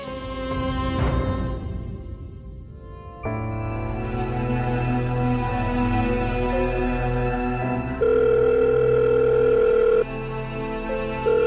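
An outgoing call on a phone rings back steadily with repeated electronic tones that shift pitch partway through, clear and close with no talking over it.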